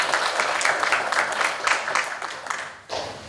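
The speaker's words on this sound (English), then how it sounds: "let's applaud you" Applause for fifth grade award recipients at a school ceremony, a dense burst of clapping from an audience that holds steady and then tapers off near the end.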